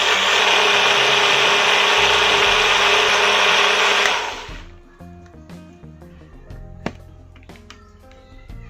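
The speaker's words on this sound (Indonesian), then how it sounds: "ini bumbu yang sudah selesai kita blender" A loud blender whirs steadily while grinding a thick spice paste with thin coconut milk for Acehnese white chicken curry, then cuts off after about four seconds, leaving faint knocks and clinks.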